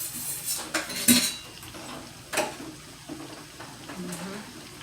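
Metal cutlery clatters and clinks in a kitchen drawer while someone rummages for a dipper during dinner cooking, with several sharp jangles and a faint water trickle, under intermittent talking.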